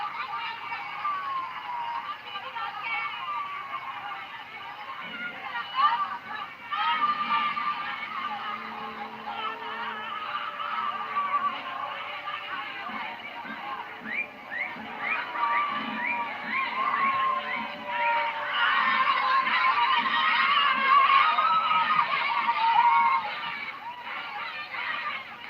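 A large stadium crowd at a football match applauds and cheers the Ghana players as they go round the pitch, a sustained, dense roar of clapping and voices that swells louder toward the end.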